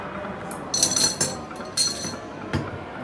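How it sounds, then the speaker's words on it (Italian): A block of ice is set into a glass at a bar with several sharp clinks and knocks against the glass, spread over a few seconds and fairly close, with no talk. "nel bicchiere metteremo un blocco di ghiaccio"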